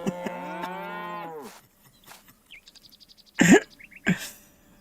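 A cow with horns lows in the farming game Farmer's Life, one long drawn-out moo close and loud, followed by scattered clicks and short cough-like grunts.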